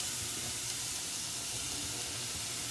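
Leek sliced into rounds sizzling as it sautés in a pan with other ingredients for a brie and leek risotto, a steady close hiss with no breaks and no voices.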